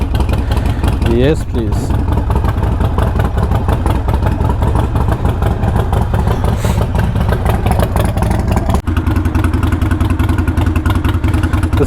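A motorcycle engine idles steadily while warming up, close and loud with a shaking, rumbling throb throughout, and a person talks briefly near the end.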